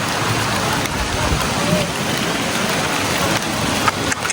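Heavy rain pours down on an outdoor fair during Dussehra, where large Ravana effigies stand soaked. A loud, dense, unbroken roar of rainfall fills the whole stretch, with a few faint knocks and rumbles underneath.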